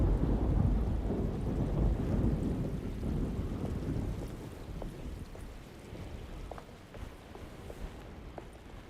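Thunderstorm in the horror game Alone In The Dark, a steady heavy rumble of rain and rolling thunder filling the low end, loudest at the start and easing slightly toward the end, with no voices.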